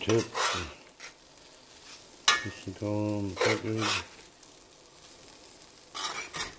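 Beyond Steak plant-based tips sear in a shallow puddle of hot vegetable oil, with a soft sizzle and utensil clinks from stirring. A voice is heard briefly in the middle.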